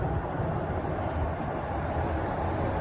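A TTC subway train arriving at Highway 407 station makes a continuous, loud rolling rumble with a broad wash of noise, steady throughout.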